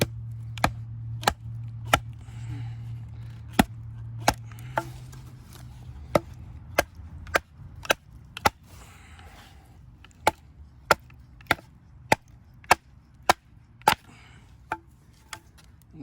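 Condor Terrasur bushcraft knife being batoned into hard wood: a long run of sharp, hard knocks at a steady, slightly irregular pace of roughly one per second, close and distinct over a faint hum.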